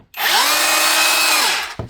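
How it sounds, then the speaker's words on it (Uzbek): Makita rotary hammer running in drill mode, a steady high-pitched whine that spins up, holds evenly for over a second and winds down, close and loud with no talk. "sverlo rejimida mana."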